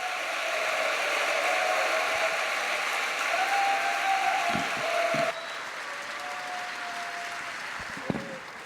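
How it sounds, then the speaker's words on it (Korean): An audience in a church-style gathering for Christian soldiers claps steadily to welcome a pastor. The dense applause fills the hall, then drops to a softer continuing patter, with no voices over it. "우리 귀하신 목사님 큰 박수로 환영해 주시면 감사하겠습니다"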